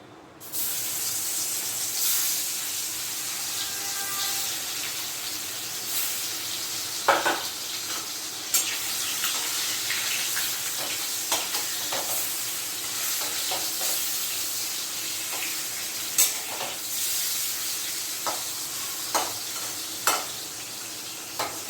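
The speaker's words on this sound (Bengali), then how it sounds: "এবার আমি মাছ দিয়ে দিচ্ছি মাছগুলো ভেজে নেবো" Hilsa fish pieces fry in hot oil with a steady, broad sizzle running throughout, broken by occasional sharp clicks and taps of a utensil against the pan.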